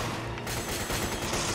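Rapid, dense gunfire from the Resident Evil 5 video game, a sustained burst of overlapping shots at steady loudness throughout.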